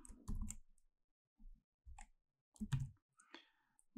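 Typing on a computer keyboard: a handful of separate, quiet key clicks spaced out over a few seconds in a silent room.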